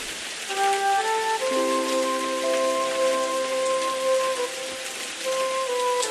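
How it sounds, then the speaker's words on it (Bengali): Heavy rain pours down on a rural village, a steady hiss of falling water that runs throughout beneath sustained musical tones. "এই কি বৃষ্টি শুরু হয়েছে!"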